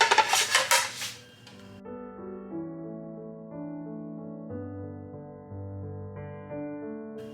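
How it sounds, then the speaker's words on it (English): Rae Dunn ceramic dishes clink as they are set on a table, a quick run of bright knocks at the start, followed by soft sustained tones fading in and out in the background. "I'm going to put my Rae Dunn dishes, and these just say delish, and I'm going to put them right on top."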